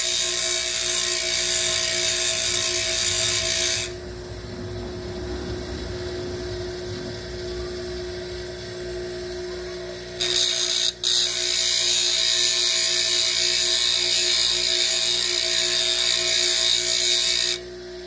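A bench grinder whines loudly and steadily as a luthier's tool is ground against it, the high-pitched grinding dropping away for several seconds, then resuming just as strong.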